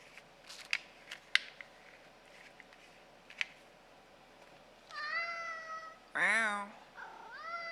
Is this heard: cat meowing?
yes